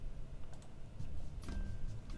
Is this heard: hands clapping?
no